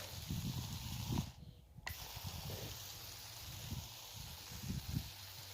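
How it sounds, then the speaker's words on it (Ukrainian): A spray bottle mists fuchsia cuttings set out for rooting, giving a steady close hiss of fine spray with a brief pause, over low handling noise and no talk. "я періодично відкриваю і порошую. Роблю такий їм дощик."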